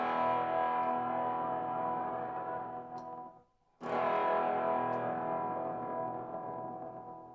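A guitar reverb pedal with an octave-down stretch produces a thick, dense wash of sound that swells and sustains, cuts out briefly near the middle, then returns loud and full before slowly fading.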